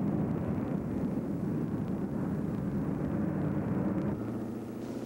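Aircraft at the Paris Air Show: a steady, loud, broadband jet engine roar fills the whole stretch, easing slightly near the end with no voices over it.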